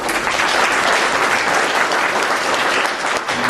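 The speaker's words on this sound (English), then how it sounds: "I'd like to acknowledge him, please, with a round of applause" An audience at an entrepreneurs' forum gives a steady, loud round of applause that holds at an even level from start to finish.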